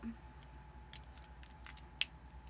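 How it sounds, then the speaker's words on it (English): Scissors snipping through paper in an art journal, a few light quick cuts with one sharper click, close and quiet over a low room hum. "I'm just going to cut that area out"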